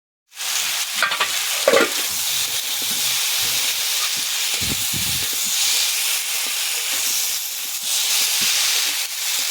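Tomato and masala fry in a pan for a rohu fish curry with drumsticks and potato, a loud close steady sizzle and steamy hiss with a few stirring knocks early on.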